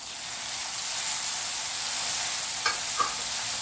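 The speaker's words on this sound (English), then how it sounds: "Give it a mix." Ground peppercorns and dry powdered spices are stirred in a hot pan, making a continuous hissing sizzle, with two brief scraping clicks from the utensil near the end.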